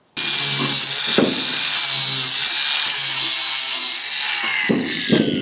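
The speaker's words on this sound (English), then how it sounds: "Clean this up with the grinder." An angle grinder smooths a freshly cut edge in one continuous, close, harsh whine lasting several seconds, with brief dips in pitch as it bites into the workpiece.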